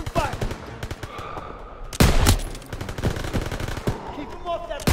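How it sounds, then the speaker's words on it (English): Machine gun fire in the World War II video game Call of Duty WW2, sustained rapid bursts that grow louder midway, with battlefield noise and faint voices underneath. "MGs, open fire."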